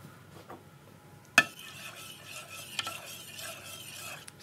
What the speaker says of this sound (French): Donc vous mélangez bien.